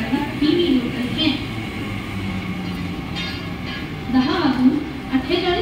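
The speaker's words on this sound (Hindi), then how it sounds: "प्लॅटफॉर्म क्रमांक 2 पर आई हुई लोकल 10:44 मुंबई छत्रपती शिवाजी महाराज टर्मिनस जाने वाली धीमी लोकल है।" A Mumbai slow local train stands at a platform of Vikhroli railway station, with a continuous rumble of rail cars and brief screeching bursts, while station announcements play over the noise.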